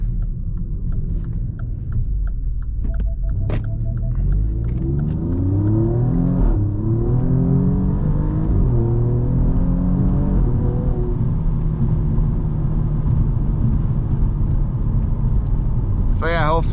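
Alfa Romeo Giulia Quadrifoglio accelerating hard to warm its tires, the engine note climbing through rising gear sweeps in a loud, continuous run, with some speech mixed in beneath the revving.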